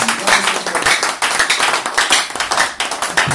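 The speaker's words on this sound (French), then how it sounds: "Acclamons très fort pour notre Jésus." A church congregation at a worship service claps hard and steadily in unison, a dense, loud run of rhythmic hand claps with a few brief dips in energy.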